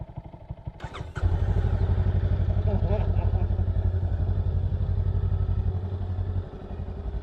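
A 2023 Honda Rebel 500 motorcycle starts with a quick cranking clatter and then settles into a loud, steady, throbbing idle close by, with a slight drop in level toward the end.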